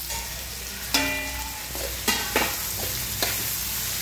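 Onions and green chilies fry in a pan with a steady soft sizzle, broken by a few sharp clinks and scrapes of a utensil stirring.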